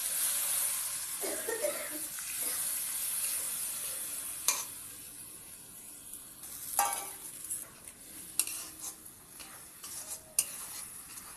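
A paste of cashew, black pepper and poppy seed sizzles steadily in a hot pan while making paneer, with a constant frying hiss and occasional sharp clinks and scrapes of a spoon stirring against the metal.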